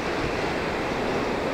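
Sea surf at Gavkhadi beach near Purnagad in Ratnagiri, Konkan, a steady broad wash of waves with wind noise, continuous and fairly loud for a short stretch, no voices.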